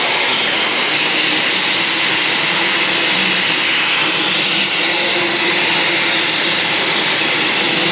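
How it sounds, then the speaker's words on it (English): Cutting torch washing out a weld in a workshop fabrication job gives a loud, steady, roaring hiss that fills the whole stretch without a break. "Go ahead and wash that one out with the torch."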